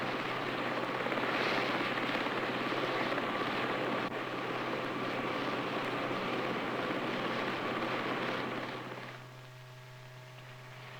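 A rescue helicopter gives a steady, droning rotor and engine roar that holds for most of the stretch before dropping off abruptly near the end, with no talking.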